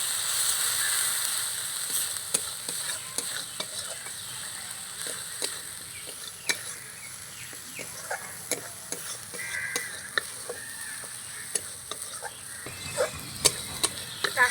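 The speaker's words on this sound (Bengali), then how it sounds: "কাশ্মীরি লঙ্কার গুঁড়ো আর হলুদ গুঁড়ো দিয়ে একটু নাড়াচাড়া করে কষিয়ে নিয়েছি" Kashmiri chili powder and turmeric being stirred and sautéed in a pan for a gachi taro dish: steady frying hiss under irregular scraping clicks of a spoon against the pan, continuous and close with no talking.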